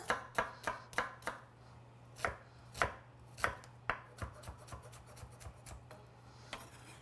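A knife chopping red onion on a board, a quick run of crisp, evenly spaced close chops that slow slightly and thin out toward the end, with no speech.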